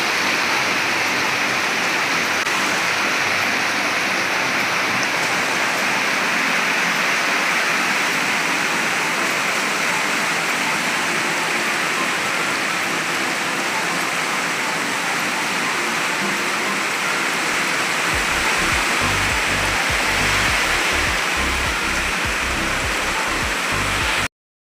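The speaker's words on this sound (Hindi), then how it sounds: "मौसम पानी गिर रहा है, खुल रहा है, लगातार ऐसे ही" Rain pours steadily outside in a dense, loud hiss that holds throughout, joined near the end by a low rumbling patter, with no talking.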